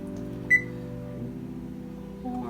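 An oven's control panel gives a single short beep over a low, steady hum as the preheat is being set, faint and close by.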